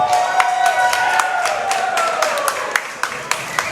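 A wrestling crowd at a PWF women's title match between Shay KarMichael and Hyan cheers and applauds a high-risk move, a steady roar of voices with scattered sharp claps rising toward the end.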